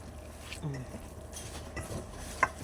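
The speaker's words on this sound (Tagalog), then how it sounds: "haluin lang ng haluin" Quiet scraping and light clinks of a utensil stirring in a pan, with soft sizzling beneath and one sharper metallic tap near the end.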